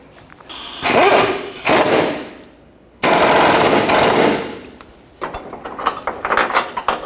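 A ratchet tightens engine mount bolts on a Chevy Traverse, with loud bursts of rapid clicking up close, several strokes separated by short pauses, and quicker, lighter clicks toward the end.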